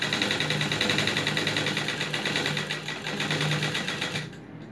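Rapid, steady whirring and clatter of a sewing machine stitching a face mask, close and continuous for several seconds before stopping abruptly, no one speaking.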